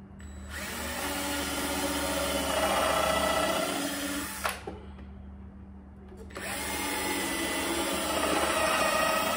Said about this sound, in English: make sure we squeeze it tight. And put some screws in it.